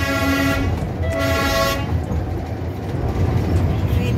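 The Darjeeling toy train's horn on the run toward Kurseong gives two short tooting blasts close by, over a steady rumble of the moving train.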